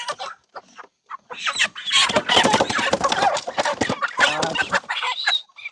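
Poultry squawk and cluck in a dense, loud chorus at a chicken sale, birds recovered from bird flu, with clustered bursts of calls close by.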